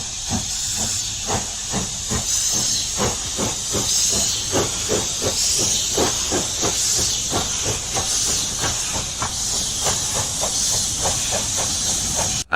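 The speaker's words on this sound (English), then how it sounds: "At Preston itself, Riddles Pacific 70039 departs quickly with 11 Carlisle to Bolton passenger service." A BR Riddles Pacific steam locomotive, number 70039, departs with a passenger train, its loud steady hiss of steam cut by a rapid, even run of exhaust beats, close by and with no voices.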